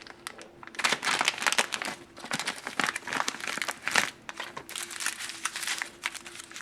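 Plastic wrapper of a 2008 US military MRE accessory pack being torn open and handled up close, a busy run of crinkling and crackling rustles with sharp tearing bursts.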